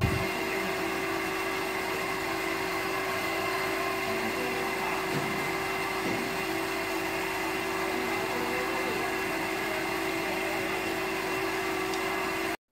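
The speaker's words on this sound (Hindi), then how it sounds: "एक आदमी बेसन की बनी हुई लोइयों को मशीन में एक एक करके वो डाल रहा है" An industrial namkeen sev machine in a factory presses besan dough balls through a mesh into a diesel-fired fryer, giving off a steady loud mechanical whine and hum with a constant tone, unbroken for over twelve seconds.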